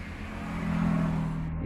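A car passes on a busy main road during festival traffic near Chennimalai, its engine rumble swelling and peaking mid-way before easing off, close and fairly loud with no talk.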